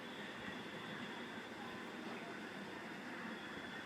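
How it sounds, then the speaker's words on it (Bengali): A train pulling into a railway station platform, a steady broad rumble and hiss of rolling wagons that stays loud and continuous throughout, with no speech over it. "ট্রেন আসছে এক্ষুনি 1 নম্বরেতে।"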